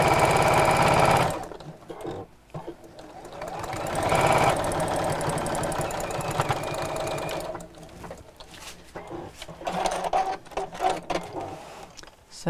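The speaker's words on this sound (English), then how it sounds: "I'm sewing on the red bit, on the waistband." A sewing machine stitches the red waistband of a Christmas apron in loud rapid bursts, whirring hard, pausing, then running again in shorter runs of stitching with small clicks between.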